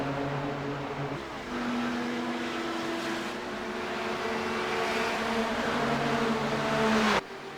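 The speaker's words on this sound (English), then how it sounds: "They stream down the front stretch. Just a train of GTP cars." A train of GTP prototype race cars streams down the front stretch, a sustained engine drone that holds for several seconds with shifting pitch as cars pass, cut off abruptly near the end.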